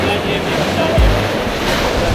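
Waves washing against the hull of a boat sailing on the sea off Dubrovnik at sunset, with steady rushing water and wind buffeting the microphone and a brief low thump midway.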